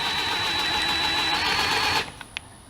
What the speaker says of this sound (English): I'm going to run me a self-tapping screw right down in here